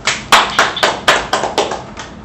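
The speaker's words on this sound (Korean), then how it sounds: "힘찬 박수 부탁드립니다." Sharp, separate claps ring out in an uneven rhythm, about eight loud hits in a row, at a Korean-American business friendship forum breakfast event.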